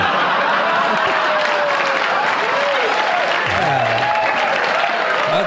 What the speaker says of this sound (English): You hear that clapping?